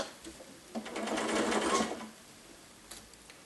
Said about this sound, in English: I'm just going to stitch down the edge of this 1/4 of an inch from the edge